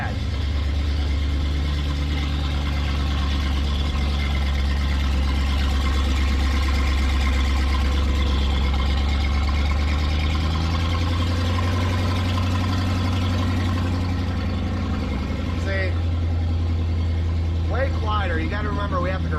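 A modified Mercury Mountaineer idles steadily inside a closed garage, a loud, even low rumble that fills the space throughout, with someone talking over it toward the end.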